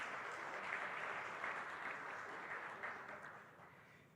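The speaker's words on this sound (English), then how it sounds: "A round of applause for Bab Kumar." An audience at a countdown and launch event applauds a person being honoured, a faint, distant patter of many hands that slowly fades out.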